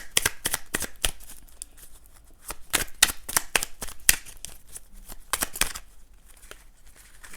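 Tarot cards being shuffled by hand in repeated quick riffling bursts, crisp and close, with brief pauses between runs and no voice.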